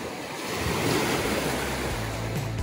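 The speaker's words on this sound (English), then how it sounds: "dipping our toes in the lake and watching the waves" Lake waves wash and lap steadily at a Michigan beach, heard close and fairly loud with a windy rush and no voices.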